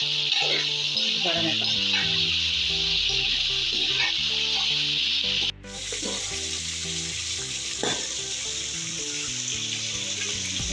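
Chicken pieces browning in a pan for a karela and chicken salan sizzle steadily with occasional stirring, under background music, with a brief spoken remark.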